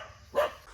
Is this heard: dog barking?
yes